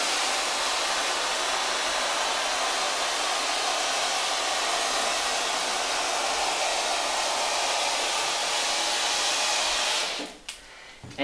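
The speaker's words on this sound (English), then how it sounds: "we're going to start our steamer" A handheld steam cleaner hisses loudly and steadily while steaming a chair to treat bed bugs, a broad continuous rush that runs for about ten seconds before cutting off near the end.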